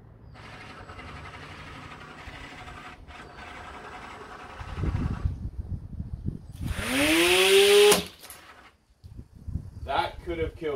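A DIY mower's motor spins up a 3D printed cutting blade, whirring and then rising into a loud, climbing whine before cutting off abruptly, followed by a few clattering noises.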